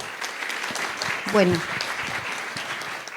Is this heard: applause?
yes